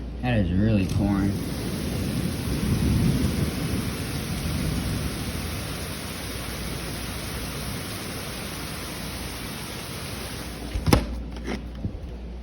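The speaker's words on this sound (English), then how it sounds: "That is really pouring." Heavy thunderstorm rain pours steadily as a dense, loud wash, with a low rumble of thunder at the start and a sharper crack near the end, air conditioners running in the background.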